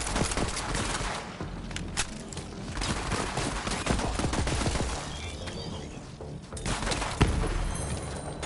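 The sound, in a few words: gunfire in video game Borderlands 3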